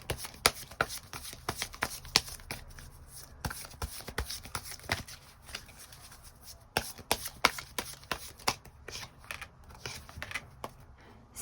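Tarot cards are shuffled by hand in close, quiet, rapid riffles and soft slaps, an irregular stream of crisp card clicks with brief pauses.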